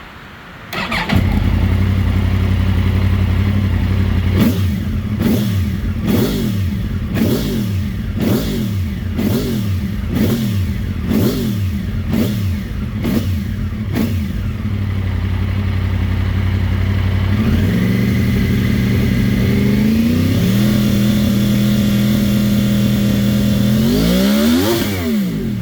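A 2014 Yamaha YZF-R1 motorcycle, already partly warmed up, fires up and idles loudly nearby, then a series of rapid sharp throttle blips, a steadier idle, and a few more rising revs near the end.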